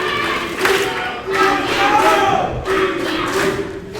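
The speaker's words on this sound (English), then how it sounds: "The crowd calling for the DDT." A live independent wrestling crowd during a cage match, loud rhythmic chanting in rising and falling waves with shouts and a few thuds, filling the room at close range.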